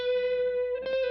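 A single sustained instrument note passes through a short delay effect of around 70 milliseconds, and near the end each attack comes twice in quick succession, heard alone.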